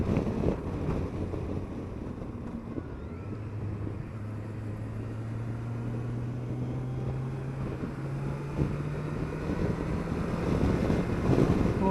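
A Kawasaki Versys 1000 GT motorcycle cruises at 4,500 revs, a steady engine drone with a low sustained tone rising slightly, heavily mixed with wind rush from riding.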